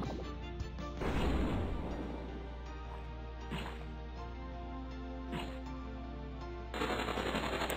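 Rapid machine-gun fire from the Epic Battle Fantasy 4 video game, heard as loud bursts of crackling game sound effects over steady background music, with a heavy burst early and another near the end.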